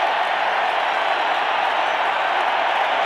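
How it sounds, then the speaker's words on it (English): Roar of a 55,000-strong baseball crowd at the 1987 World Series Game 6, Cardinals at Twins, a dense, steady wash of cheering and noise that fills the whole stadium without letup. "34 home runs, crowd gets louder"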